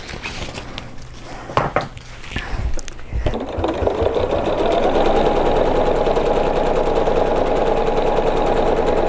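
A sewing machine quilts fabric along chalk lines, starting after a few clicks and handling sounds, then running in a steady, close, continuous whir to the end.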